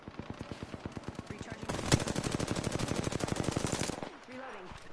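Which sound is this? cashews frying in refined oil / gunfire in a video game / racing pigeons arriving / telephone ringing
gunfire in a video game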